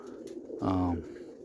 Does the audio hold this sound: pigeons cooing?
yes